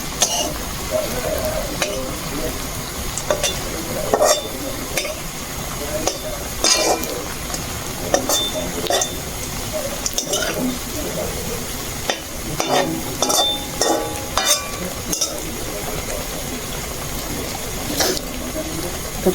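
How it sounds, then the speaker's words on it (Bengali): Homemade biscuits frying in a pan over low heat give a continuous sizzle, broken by frequent stirring scrapes and clinks of a utensil against the pan. "তো কম আঁচত ভাজি নাকি বন্ধুগণ, বেশি আঁচ দিলে না এলা পুড়ি যায়"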